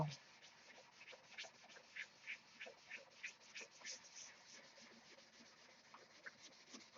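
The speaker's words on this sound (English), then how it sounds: "The sanding part is killing me." Sandpaper rubs back and forth across a model stunt hangar during paint prep at the bench, faint, close strokes in a steady irregular rhythm with no talking.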